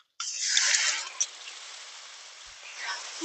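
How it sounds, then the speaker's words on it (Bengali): A little water splashes into a pan of melting jaggery and sets off a sudden loud hiss that gradually fades to a softer, steady sizzle. "একদম সামান্য একটু জল দিয়ে দিলাম"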